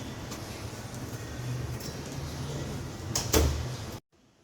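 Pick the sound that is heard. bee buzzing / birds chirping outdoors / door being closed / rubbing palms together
door being closed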